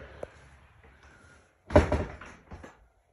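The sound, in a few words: door opening as someone walks inside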